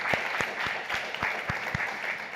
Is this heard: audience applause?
yes